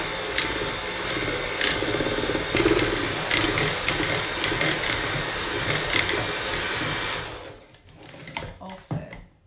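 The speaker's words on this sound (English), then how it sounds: "We're gonna do dough with a mixer." An electric mixer beats eggs and sugar for cake batter with a steady motorized whir and rattling against the bowl, winding down near the end as a voice speaks.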